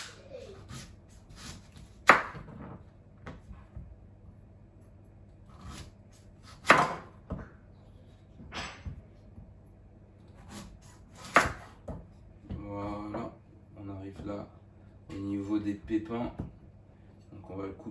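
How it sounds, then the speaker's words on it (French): A knife cuts butternut squash into rounds on a board, giving sharp, well-spaced chops. A French-speaking voice talks steadily over and between the strikes. "on va couper ça en rondelles"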